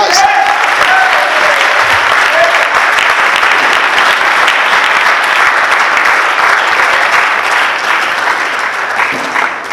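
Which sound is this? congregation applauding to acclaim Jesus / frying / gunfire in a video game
congregation applauding to acclaim Jesus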